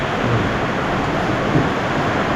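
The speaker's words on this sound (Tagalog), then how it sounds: "Lakas ang ulan." Dense, loud rain pours continuously, a broad roaring hiss with no pauses and no voices.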